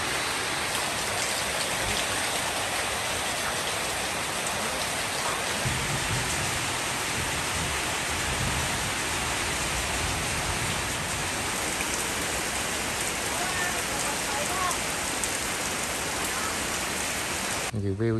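Heavy rain falls steadily on a rural garden during a stormy, windy day in the Vietnamese countryside, a dense, continuous hiss of drops close by with no breaks, and no voices.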